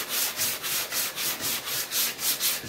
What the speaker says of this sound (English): I'm going to take some 220 wet dry sandpaper on my block and I'm just going to lightly sand this down